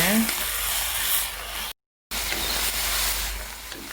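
Pork and shiitake mushrooms stir-frying in a pan, a steady close hiss of sizzling broken by a brief silent gap, with a voice faintly present.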